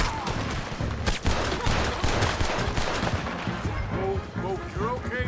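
Shootout in Red Dead Redemption 2, with a dense, loud barrage of rapid overlapping gunshots from several weapons carrying on throughout, mixed with talk and other game sounds.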